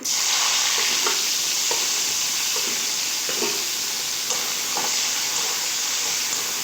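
Chopped onions fry in a hot pan tempered with five-spice, a loud continuous sizzle with repeated scrapes and knocks of a spatula stirring them, no voices.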